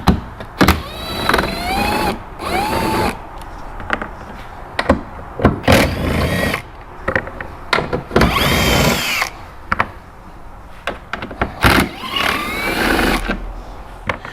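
A power tool drives out T40 bolts on a Polaris RZR Pro R rear section, sounding as repeated short whirring bursts with pauses between them, loud and close, with no talk.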